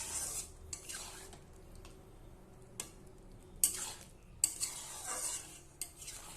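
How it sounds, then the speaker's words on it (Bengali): A spoon stirs food in a pan after a spoonful of ghee is added, with sharp scrapes and clinks of metal against the pan at irregular intervals over a faint, low sizzle, and no voices. "এবার আমি ভালোভাবে নেড়ে নেব।"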